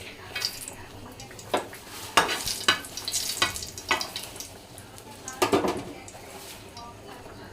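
Cumin seeds and two or three dried red chilies frying in hot oil for a vegetable dal, with a close steady sizzle punctuated by clinks and scrapes of stirring in the pot.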